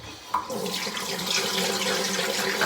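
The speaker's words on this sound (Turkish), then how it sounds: "Şimdi ilk önce yüzümü yıkayalım." A bathroom tap runs in a continuous, close splashing rush into a sink during a morning face wash, with a small knock near the start and the water flow steady throughout.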